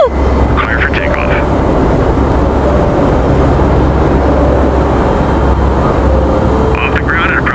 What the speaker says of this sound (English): Off the ground and approaching cruising altitude